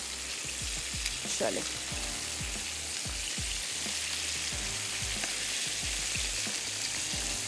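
Chicken sizzles in a hot pan with a dense, steady crackle and frequent low knocks and scrapes as it is turned, while a voice speaks briefly.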